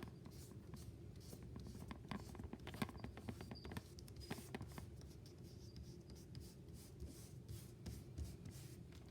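A finger rubbing the back of damp paper pressed onto an inked printing plate, giving a steady soft scratchy friction with small patters and shuffles, close and continuous throughout.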